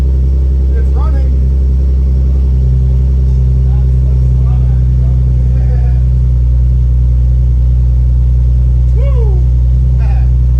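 A car engine idles loud and close after starting, a heavy, steady low rumble that continues throughout while voices talk over it.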